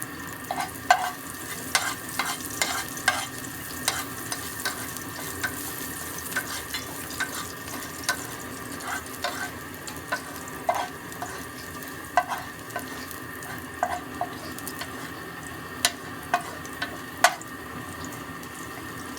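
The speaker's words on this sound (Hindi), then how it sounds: "देन आपने इसके अंदर ये लहसुन डाल लेना, फ्राई कर लेना।" Garlic frying in about two tablespoons of oil in a pan, a constant soft sizzle with repeated sharp clicks and scrapes of stirring spread throughout.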